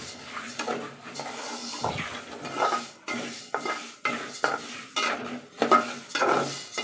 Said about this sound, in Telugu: ఈ ఆవాలనేది డైరెక్ట్ వేస్తున్నా. ఇవి ఇలానే ఫ్రై చేయాలి,